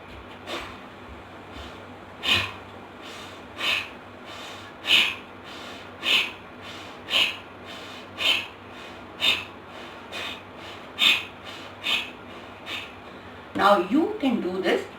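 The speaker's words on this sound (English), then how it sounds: "Take a deep breath." Deep breathing in and out during a lymphatic breathing exercise, a dozen or so short, forceful nasal exhales repeating in a steady rhythm over low background noise, with a brief voice near the end.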